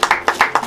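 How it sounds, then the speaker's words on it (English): Several people clap in quick, steady bursts for a woman receiving a laptop her mother got for her. The applause is short and close, with no talking over it. "Give her a clap, man."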